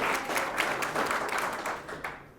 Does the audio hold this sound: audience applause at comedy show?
yes